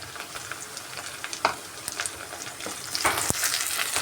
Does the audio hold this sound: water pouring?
no